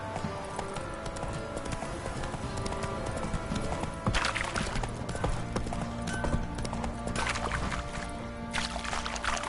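Hooves of Geralt's horse Roach clip-clopping steadily at a run through The Witcher 3 game world, a continuous rhythmic thudding with faint harness and ambient noise underneath.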